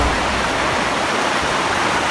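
Creek water rushes steadily in a close, loud, unbroken flow with no breaks or talk.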